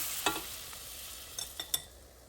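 A Bisquick pancake fries in butter in a pan, a faint steady hiss with a handful of sharp spatula taps and scrapes against the pan, near and quiet, with no talking.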